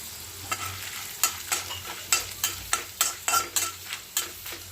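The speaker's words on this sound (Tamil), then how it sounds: "உளுத்தம்பருப்பு போட்டுடலாம் கடலைப்பருப்பு காஞ்ச மிளகா புளியும் போட்டுருவோம் நல்லா வதங்கட்டும்" Urad dal, chana dal, dried red chillies and tamarind sautéing in a pan for a spicy tomato chutney, a low sizzle punctuated by a steady series of sharp stirring scrapes and clacks.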